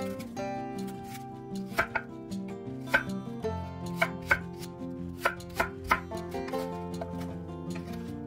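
Knife chopping through apple and pear on a cutting board, a series of distinct close thuds at uneven intervals over a steady musical background, with no voices.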